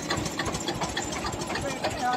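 An Eicher 240 NC tractor engine runs close by with a steady, rough diesel chug in a rural setting. Someone talks over the engine noise the whole time.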